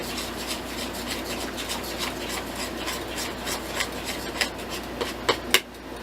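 Blueberry bannock dough with baking powder being mixed in a bowl, a continuous rough rubbing and scraping of a utensil against the bowl, close and steady, with a few sharper knocks near the end and no talk.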